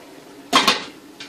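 Metal lid clanked back onto a pot of boiling water while steaming snapper in scampi sauce: two quick close clinks in succession, then a faint lighter tap a moment later, with no talking.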